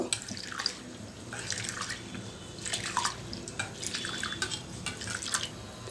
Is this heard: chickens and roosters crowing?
no